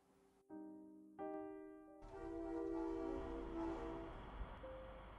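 Approaching train in the video game Sepulchre: a sustained horn or whistle chord that steps up in pitch, then the low rumble of the train rolling closer and growing louder beneath it.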